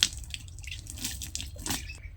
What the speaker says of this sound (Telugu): ఇలా రోజు ఉదయం పూట నీళ్ళు చల్లుకొని నుగ్గు అయితే పెట్టుకుంటానండి ఇంటి ముందర